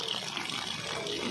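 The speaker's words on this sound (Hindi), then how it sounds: "सामने से आता है झरना" Waterfall at the Jhar Mahadev temple in Bundi, its water pouring in a steady, continuous rush with a broad hiss and no talk over it.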